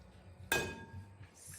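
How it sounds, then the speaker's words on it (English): Organic eggs for a Spanish tortilla crack against a bowl in one sharp, close click, followed by quiet kitchen noise. "crack the eggs in here."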